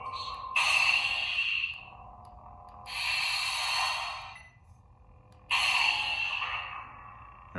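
A lightsaber prop cycles through its sound fonts: three bursts of hissing, breathy whoosh rise over a faint low hum, with short gaps between them.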